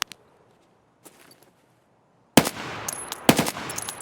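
Gunfire in the video game Raid: a few faint isolated shots over near silence, then loud, rapid bursts of automatic fire with sharp cracks.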